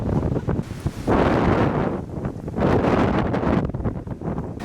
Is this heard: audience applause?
no